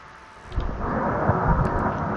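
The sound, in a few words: thunder and rain in the video game Blameless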